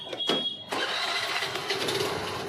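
A Honda Activa scooter engine cranks and catches after a short starter whir, then settles into a steady close-up idle.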